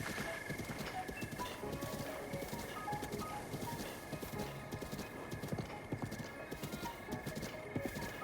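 Hooves of the horse Epona clip-clop steadily in Zelda: Breath of the Wild while she is ridden, a continuous rhythmic patter over game music with tonal lines.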